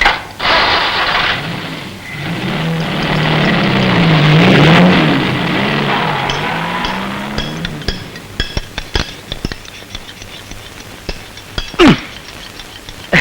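An old car with a slipping gear is driven hard, its engine revving loud and steady, swelling and easing before fading into scattered clinks and rattles.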